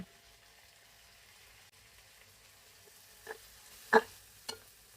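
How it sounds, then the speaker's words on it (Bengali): Tomato and green chili frying in oil, a faint, low sizzle throughout with a few soft utensil taps near the end. "তেলে ভাজা ভাজা করে নিব"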